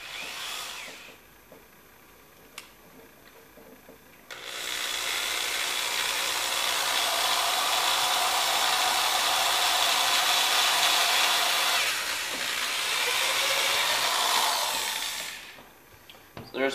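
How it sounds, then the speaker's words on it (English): A power drill bores a series of holes around the sides of a container for draining paper pulp, with a loud steady whine that runs for about ten seconds between quieter stretches. "I'm going to try drilling a bunch of holes around the sides"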